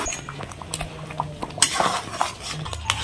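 Homemade grape jelly thickening in a pan and stirred constantly, producing close scraping and clinking of a spoon against the pan with soft bubbling beneath.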